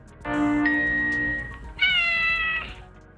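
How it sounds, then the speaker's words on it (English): An orange tabby kitten named Mimsy, a rescue cat, meows twice in a spoof of the MGM lion logo: a long, clear, close meow followed by a second, higher one after a short pause. "an adorable orange tabby kitten named Mimsy"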